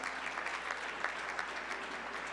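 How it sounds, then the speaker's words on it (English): Steady applause from an audience at a Calabrian heritage celebration evening, fairly faint and distant, continuous clapping with a low hum beneath. "So a big applause to all of you."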